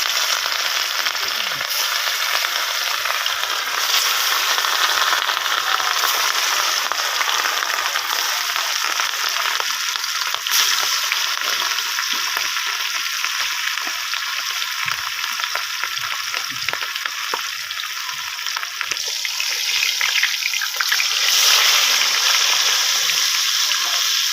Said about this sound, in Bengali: আমার তেল গরম হয়ে গেছে, আমি মাছগুলো এবার একটা একটা করে দিয়ে দেবো।